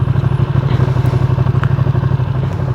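A Ducati Streetfighter V2 motorcycle rolling slowly, its engine chugging in a steady low pulsing rhythm, loud and close, with faint clatter and no talk.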